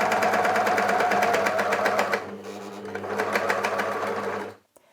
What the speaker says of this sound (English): I'm gonna do this in an overlocker